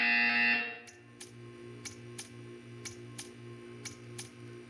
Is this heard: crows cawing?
no